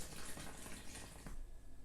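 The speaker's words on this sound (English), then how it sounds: "So I'm going to pour that into the middle of this bowl." Cooled liquid poured into the middle of a mixing bowl to start a dough, a steady splashing pour lasting about a second and a half before tapering into quiet.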